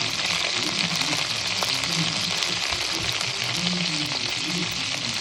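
Five or six green chillies fry in a hot pan for Telugu dondakaya pachhadi, giving a steady, dense sizzle that stays even throughout with no talk over it.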